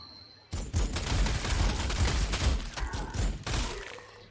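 Dense volley of gunfire in the Warhammer 40,000: Sanctus Reach strategy game, a loud sustained burst of overlapping shots lasting about three seconds before cutting off sharply, then a brief final crack.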